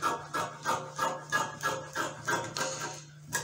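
Scissors cut through excess fabric when trimming a sleeve, close and moderately quiet, with about eight rhythmic crunching snips in steady succession.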